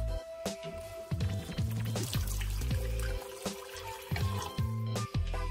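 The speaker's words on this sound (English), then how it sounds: "I'm going to pour in 2 cups of vegetable broth" Vegetable broth pours into a soup pot for broccoli cheese soup, a steady close liquid splashing and trickling over several seconds with some background tones.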